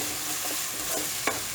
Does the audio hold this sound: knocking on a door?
no